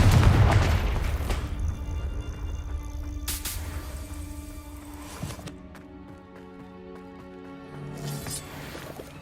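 Bombarda and Confringo explosion spells in Hogwarts Legacy burst with a deep boom at the start, followed by further sharp blasts and magical ringing tails, loud and close, with no talking over them.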